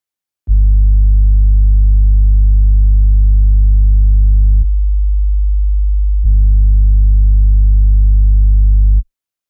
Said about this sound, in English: which is nothing than a pure sine wave at 50 Hz